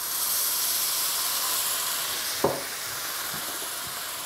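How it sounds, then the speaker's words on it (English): Beer for a glaze hits a hot pan with a sharp splash, set against a continuous loud hiss and sizzle that carries on steadily around it, with no voices. "the beer for the glaze"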